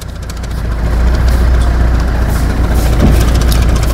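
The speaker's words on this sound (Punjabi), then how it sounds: "ਇਹ ਫਕ ਫਕ ਕਰ ਰਹੀ ਹੈ, ਮਿਸਿੰਗ ਹੈ।" Car engine misfiring from an improper injector setting with doubled injector washers, a steady rough idle that swells into a revving, uneven chugging, heard close and alone without talk.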